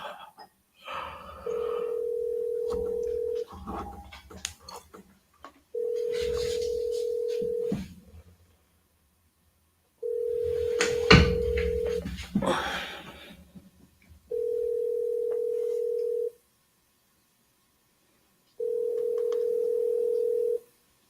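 A phone call rings with five evenly spaced tone bursts separated by silences before going to voicemail, and a few people talk quietly between the early rings.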